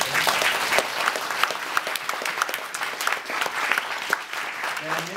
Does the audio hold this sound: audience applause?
yes